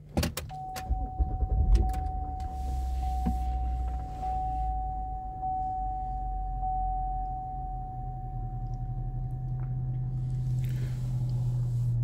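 A 2014 GMC Acadia SLE-1 engine cranks briefly and settles into a steady, low idle that holds through to the end, with a faint electronic chime tone sitting above the engine hum.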